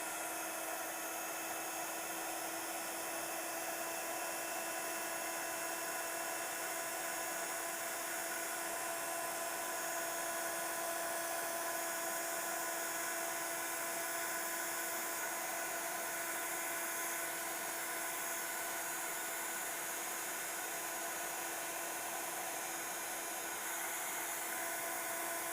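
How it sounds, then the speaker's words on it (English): A heat tool runs steadily at close range, melting embossing powder on a greeting card, a continuous whining blower tone with a bright electric hum held throughout without pause. "just using our heat tool to chase this powder"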